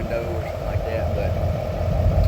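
A truck engine idles with a steady, low, continuous rumble that holds at an even level throughout, close by and without pauses.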